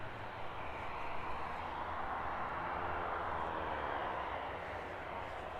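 A Jet2 airliner landing on runway 09 at East Midlands Airport in the evening, heard as a steady, broad engine roar that holds for several seconds at moderate distance.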